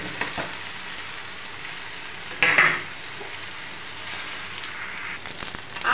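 Chow mein sizzles steadily in a hot pan while a utensil stirs it, with a brief louder clatter midway and light scraping over the constant frying hiss.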